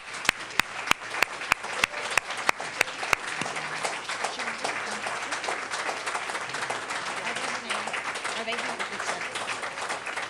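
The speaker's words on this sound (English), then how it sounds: "we can offer you another round of applause for the great, talented work" An audience applauds student performers: a few sharp, evenly timed claps ring out first, then swell into dense, sustained crowd clapping with voices murmuring underneath.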